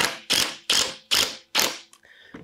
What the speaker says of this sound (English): notice how quickly the driver does insert this device into the wood